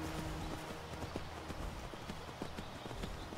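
Horse hooves clip-clop in a steady walking rhythm in Skyrim, close and clear over a low background hum.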